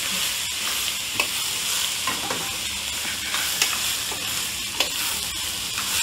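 Soaked jeeraga samba rice fries in hot oil for mutton biryani, a steady loud sizzle punctuated by scraping stirs against the pan, with no talking.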